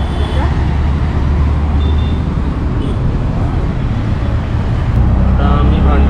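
Steady road and engine rumble from inside an auto rickshaw moving through traffic in Bhandup, loud and continuous for the whole stretch, with faint voices and passing-vehicle noise mixed in.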